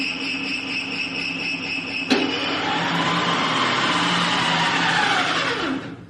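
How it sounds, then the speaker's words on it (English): A kitchen extractor fan runs loudly with a steady whirring drone and a high whine, briefly knocking partway through, then spins down and stops near the end. "The extractor fan in the kitchen also doesn't work"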